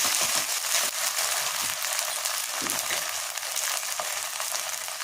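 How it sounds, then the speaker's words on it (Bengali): Onion and spices fry in hot oil in a pan, giving a continuous close, bright sizzle with small bursts of crackle and stirring scrapes, and no voice over it. "আগে মশলাটা ভেজে দিই, পেঁয়াজটা ভেজে তারপরে মশলাটা ভাজবে"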